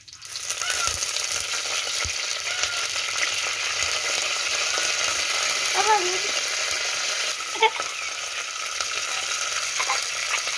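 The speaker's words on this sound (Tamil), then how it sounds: "எல்லாம் போட்டு வதக்கணும்." Green chilies and curry leaves sauté in a clay pot of oil for fish curry, giving a steady close sizzle with occasional stirring scrapes and clinks throughout.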